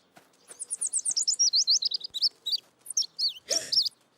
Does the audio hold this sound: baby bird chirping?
yes